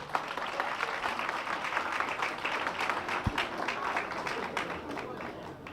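An audience at a birthday celebration event applauds in steady, dense clapping that stays fairly faint and distant throughout.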